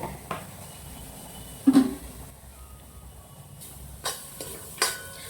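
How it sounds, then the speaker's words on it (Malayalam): Grated coconut dry-roasting with turmeric powder in a pan, heard as soft scraping stir strokes and occasional clinks of a spoon against the pan, with a faint low sizzle between them. "പക്ഷെ മഞ്ഞപ്പൊടിയും കൂടി ഇട്ട് നമുക്ക് അങ്ങോട്ട് വറുക്കാൻ"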